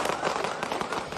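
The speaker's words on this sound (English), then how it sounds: "It's 5 seconds of rapid gunfire." Rapid gunfire in a shooting, a dense run of sharp cracks and pops packed close together, loud and fairly distant-sounding, with no clear talk over it.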